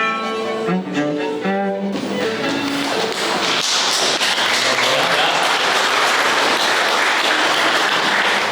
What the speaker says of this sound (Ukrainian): Це ми вам аплодуємо.